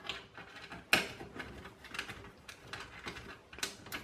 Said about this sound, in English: grab your standoffs, they look like this, simply screw them into the holes